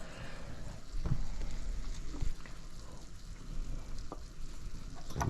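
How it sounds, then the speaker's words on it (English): Quiet, steady bubbling and seething of water at a boil as eggplant blanches in it, with a few soft knocks and clinks over the top. "And the second process with the eggplant would be to put it in some boiling water."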